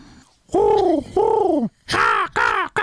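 Birds calling in a backyard, with a pigeon or dove cooing in two long drawn-out notes followed by several shorter, brighter calls, close and fairly loud with no talking.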